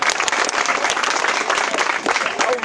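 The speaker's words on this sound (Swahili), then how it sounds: "Basi mpigiani makofi japo kidogo." An audience at a public gathering in Micheweni bursts into loud, dense, sustained applause, with many hands clapping continuously and a murmur of voices beneath.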